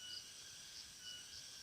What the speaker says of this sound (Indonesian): diiringi suara jenggeret, jangkrik, dan kadang-kadang ada katak